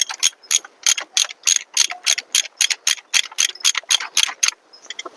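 A 10 mm ratchet wrench tightens the belt tensioner bolt while fitting a new air-conditioning belt on an Isuzu D-Max, with about twenty crisp, rhythmic clicking bursts close up and no talking.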